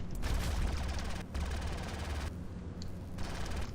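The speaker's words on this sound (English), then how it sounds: "I'm being shot." Sustained rapid gunfire pelts a ship during a Star Citizen Arena Commander space dogfight. The loud, continuous bursts break off with short gaps and then resume.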